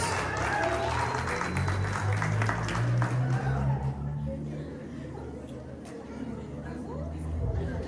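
Church congregation applauding at a Spanish-language sermon, a dense sustained wash of clapping mixed with crowd chatter that swells, eases slightly midway, then picks up again toward the end.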